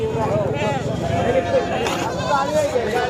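Sheep bleat at a crowded goat and sheep market in Sangola, wavering calls repeating over a busy background while someone talks alongside them.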